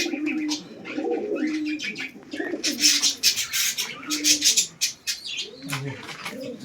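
Madrasi pigeons cooing close by in deep, rolling bursts, with sharper chirps and brief wing flutters mixed in. No one speaks.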